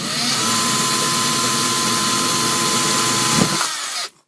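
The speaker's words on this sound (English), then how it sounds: "And I hope this drill bit does not walk." Power drill running steadily as the bit bores center holes into a metal penny stove made from cans, a continuous loud whine lasting about four seconds with a brief bump near the end before stopping.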